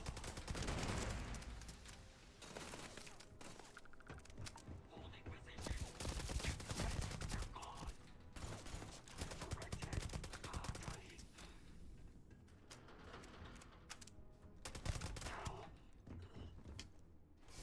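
Rapid automatic gunfire from an AA-15 weapon mod in the video game Starfield, in dense rattling bursts with thuds and explosions mixed in. The shots stay fairly quiet in the mix across the whole stretch.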